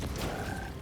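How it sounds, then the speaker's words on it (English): Frogs croak in a Pathfinder: Kingmaker game battle near Lake Silverstep Village, a low guttural croak rising briefly over dense, steady ambient game noise. "Oh, those are some durable frogs."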